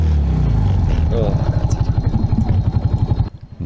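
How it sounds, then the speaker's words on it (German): A Suzuki scooter engine that had failed to start turns over and catches on a mountain road in Thailand, a fast rhythmic putter close by that runs steadily for a few seconds before cutting off. "Mein zuverlässiger Suzuki-Roller lässt mich nicht im Stich und springt dann doch noch brav an."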